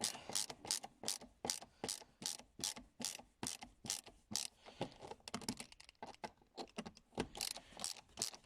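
A ratchet turns out a T30 bolt from an Isofix bracket in an Audi A6 C5, giving rapid, evenly spaced clicking strokes up close, then quicker, looser spinning clicks toward the end.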